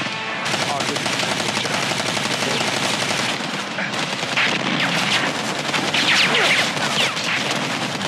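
Dense, continuous automatic gunfire in the video game Predator: Hunting Grounds, loud rapid bursts overlapping with impacts for the whole stretch.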